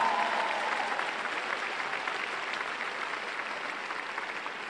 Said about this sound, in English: just all clap our hands like we're united together